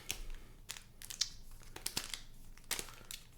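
Trading cards being shuffled before opening Modern Horizons 3 play boosters, a quiet run of crisp riffling and crinkly snaps in irregular bursts, fairly close, with no voices.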